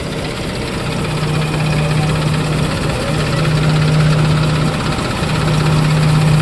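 A TAFE tractor engine idling in a farm setting, a steady low throbbing hum with a constant even tone, close and loud, with faint talk beneath.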